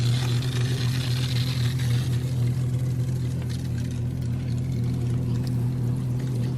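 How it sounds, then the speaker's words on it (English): Water runs through a garden hose for an outdoor shower as a continuous, steady rushing flow with a low hum beneath it, close and unbroken, with no voices. "I'm actually going to run some water through the hose so that the temperature's right."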